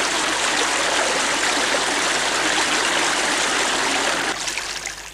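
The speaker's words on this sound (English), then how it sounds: "a cool drink from Lilla Creek, which overflows from the lake" Lilla Creek, a mountain stream overflowing from a lake, rushes in a loud, continuous broadband wash of flowing water, steady throughout and easing slightly at the end.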